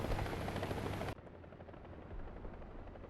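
Helicopter in a competitive military video game, a loud close rotor thrum that drops sharply in level after about a second and continues more distant and muffled, with no speech.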